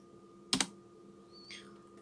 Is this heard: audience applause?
no